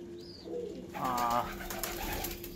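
Pet pigeons at a home loft coo close by, a few soft rolling calls over a low background hum.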